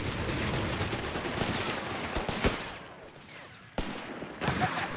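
Company of Heroes 3 battle: sustained gunfire crackles in dense bursts, then a sharp grenade-like blast punches through, followed by another loud burst as the firing continues.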